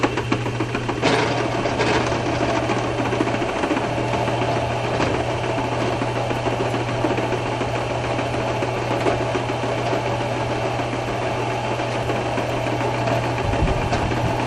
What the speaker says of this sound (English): I've got this piece of aluminum in the saw. We're going to saw it.